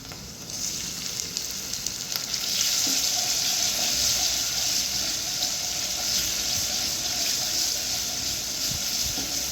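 Tomatoes frying in a pan with onions, giving a steady, loud, close sizzle that swells slightly after the first seconds, with occasional soft scrapes of stirring and no voices.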